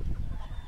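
Native Bisaya hens cluck in a short, close burst of rough, throaty calls, with no speech over them.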